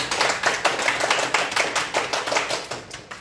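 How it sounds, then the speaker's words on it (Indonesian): A small group in a nursing lab classroom claps briefly, giving a quick run of close, crisp, slightly uneven hand claps that continues for a few seconds. "Ya, tepuk tangan"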